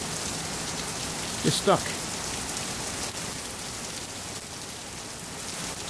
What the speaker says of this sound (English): It's 90 degrees outside and rainy